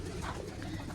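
Pigeons, including a black one, coo softly in a loft, a low, faint murmur under steady background noise.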